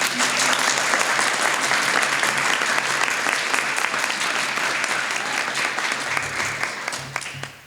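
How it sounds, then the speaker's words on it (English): Audience applause for a speaker at a healthcare education hub press conference, a dense sustained burst of clapping from a room of people that thins out toward the end. "Can we please give a round of applause to Miss Regina Taylor?"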